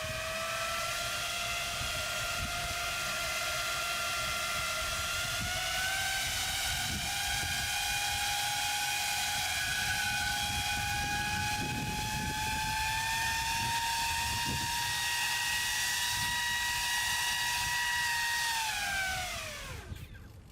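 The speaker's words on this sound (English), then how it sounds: "So I can apply some thrust to it and just see how it kind of corrects." A model SpaceX rocket hangs on an elastic cord while its motor thrusts, giving a loud, steady whine with rising pitch that holds for about nineteen seconds before spooling down abruptly at the end.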